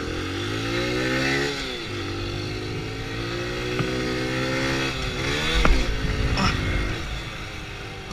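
A new motorcycle engine, carbureted, revving up from idle, a close, loud engine whose pitch rises and falls through several throttle blips over a steady rumble, with a brief knock midway.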